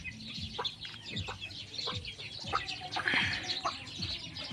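A backyard laying hen clucks repeatedly near a nest of eggs, short clucks and calls recurring every second or so over faint background bird chirps.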